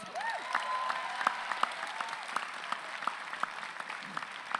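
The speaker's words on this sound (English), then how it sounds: "Give yourselves a round of applause." Applause from graduates at a community college commencement, a soft, distant spread of clapping with a few sharper individual claps and faint cheers standing out.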